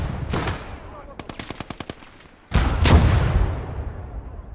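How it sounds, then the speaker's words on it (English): Video game battle sounds: a loud blast, then a rapid burst of about eight evenly spaced gunshots, then a heavy booming mortar impact that rumbles and fades, all close and loud. "Looks like the mortar."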